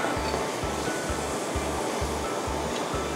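Water nears a boil in a pot of vegetables for a Thai pork noodle gravy, a loud steady rushing bubble with a faint regular low thump beneath, no voices.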